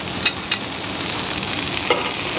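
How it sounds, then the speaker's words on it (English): Turkey breast searing on a Weber Q 2400 electric grill makes a steady, fairly loud hiss, with a couple of sharp clicks near the start and another later on. "Let's give it another flip. Nice sear over there as well."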